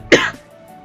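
A single short cough from a person speaking near the microphone, one sharp burst followed by quiet room tone.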